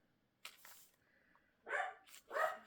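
A dog barks indoors, one sharp bark then two louder barks with a short pause between, close, with quiet room tone in the background.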